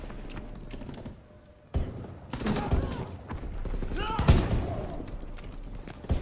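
Incendiary shell gunfire in Call of Duty: WWII team deathmatch: sharp shots and rattling bursts erupt after a quiet start, followed by mechanical clatter and sustained firing while players talk over it.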